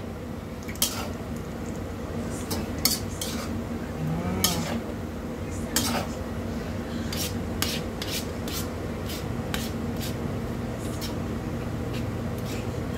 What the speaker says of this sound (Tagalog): Yung stir-fried noodles natin malapit na maluto.